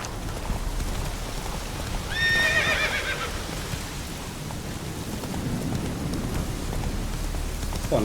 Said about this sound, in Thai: ฝนตกทำไมวะมันจะตกอะไรนักหนาวะ